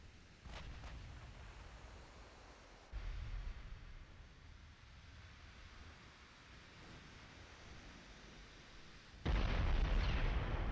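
Heavy booming blasts from torpedo strikes on warships in the naval strategy game Ultimate Admiral Dreadnoughts, rolling low rumbles with a few sharp pops, building to a loud deep burst near the end.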